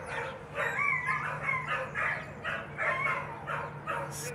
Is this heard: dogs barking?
yes